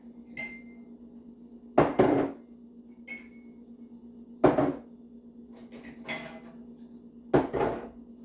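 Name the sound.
dishes being loaded into a dishwasher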